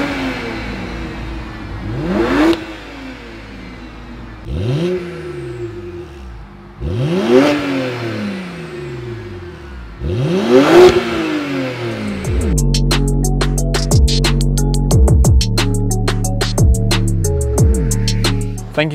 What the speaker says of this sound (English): we're going to show you what the exhaust sounds like, standard exhaust compared to the Wagner downpipe